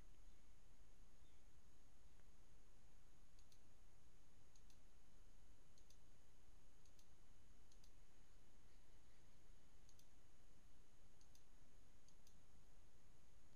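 Faint, sharp mouse clicks sound one at a time at irregular intervals over a steady background hiss, with no voices.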